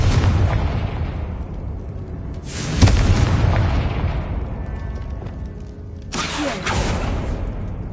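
Confringo blasting spell exploding against a barricade in Hogwarts Legacy: heavy booming bursts with rumbling decay, one strong blast near the start and another burst later, loud and close.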